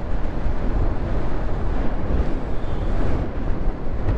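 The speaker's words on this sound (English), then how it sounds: "it is super windy" Strong wind roars and buffets against the microphone in a continuous low rumble, with no voices heard.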